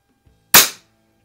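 A Weihrauch HW50S spring air rifle fires a single sharp, crisp shot up close, a short snap with a quick decay in an otherwise quiet setting.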